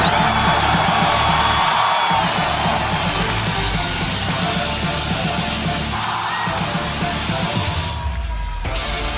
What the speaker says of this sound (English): a great crowd on hand here tonight, the Knoxville Civic Auditorium